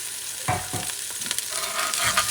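Garlic and onion fry in a pan while being stirred, with a steady loud sizzle and several scraping strokes of the utensil against the pan, close and with no voices.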